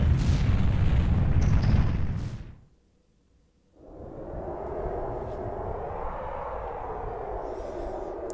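Ganon's castle collapsing in the Zelda: Ocarina of Time video game, a loud sustained rumbling roar of crashing rubble that cuts to near silence, then resumes as a steady, lower continuous rumble.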